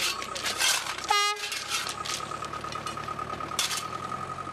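A light rail trolley travels on a railway track in Iran, giving a steady clattering, rumbling run with a short sharp horn-like toot near the start, fairly faint overall.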